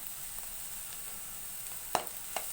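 Onions and green chilies for egg bhurji sizzle softly in a pan as a steady faint hiss, broken by two sharp clinks or stirring taps near the end.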